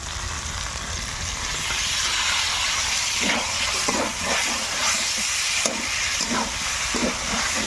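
Fried broccoli tipped into a pan of spiced potatoes and carrots sets off a loud, steady sizzle and hiss, with a few brief clatters and stirring scrapes over the frying noise.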